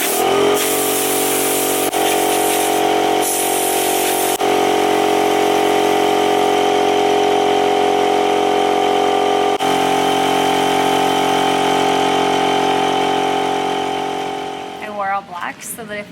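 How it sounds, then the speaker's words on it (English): An air compressor runs steadily and loudly in a workshop during a kitchen makeover, a continuous mechanical drone with a steady hum, easing off and sputtering near the end. "this air compressor that Kyle has become like one of my favorite tools"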